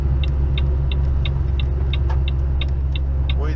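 A car engine labours uphill on the Serra do Cafezal in manual gear at half turbo, a steady close low drone and rumble with a regular ticking clicking over it, no talking.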